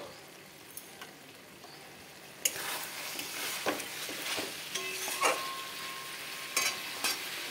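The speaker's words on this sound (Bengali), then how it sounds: "গ্যাসটা একদম কমিয়ে দিয়ে ঢাকনাটা খুলে একটু নাড়িয়ে দিই" Meat curry (kosha) stirred in an uncovered pan over low gas, with soft scraping and a quiet sizzle that grows busier after the lid comes off, scattered utensil clicks and no talk.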